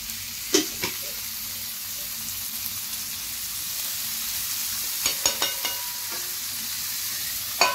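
Food fries in a pan with freshly added oil, making a constant even sizzle with a few sharp spatula clicks and pops at the start and later on.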